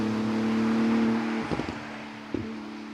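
A Porsche GT2 RS engine holds a steady tonal drone, then drops and climbs as it shifts, with two short rev bursts in the second half; no talking.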